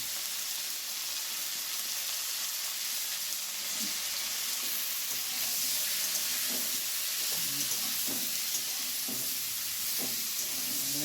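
Vegetables and green peas fry with salt and turmeric in a pan, giving a continuous close sizzle, with soft scraping stir strokes becoming more frequent toward the end.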